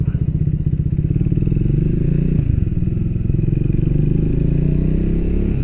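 A Royal Enfield 350 motorcycle engine idles and putters through a slow, sharp turn in the road, a steady close thumping beat with a low rumble.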